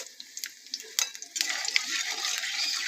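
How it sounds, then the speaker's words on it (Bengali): Dry red chili and five-spice seeds hit hot oil in a wok, opening with scattered crackles that swell into a bright, steady sizzle. "কড়াইতে তেল ছিল, আমি একটা শুকনো লঙ্কা আর 5 ফোড়ন দিয়ে দেবো"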